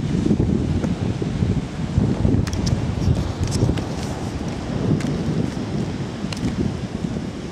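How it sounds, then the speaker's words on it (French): Strong gusting wind at Punaluu black sand beach on Big Island, Hawaii, a constant heavy buffeting roar across the microphone with brief rustling bursts, no speech. "Il y a plein de vent"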